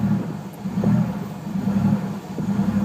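Datsun Z fitted with an RB30 engine on a stock computer, idling just after the throttle was blipped, a steady low rumbling idle with slight uneven pulses, close and fairly loud.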